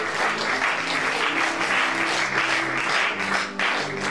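A church congregation applauds steadily during a French-language Bible study, a dense continuous wash of many hands clapping close by with no talk over it.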